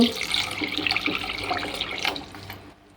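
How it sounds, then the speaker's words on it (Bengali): Cold water pours into salted flour for a cauliflower fritter batter: a steady splashing trickle, close and moderately loud, that fades out near the end. "এখানে ঠান্ডা পানি দিয়ে দেব"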